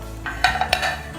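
A spoon scrapes and clinks against the inside of a cooking pot, with a few sharper metallic knocks as thick dry fish curry paste is stirred. No voices.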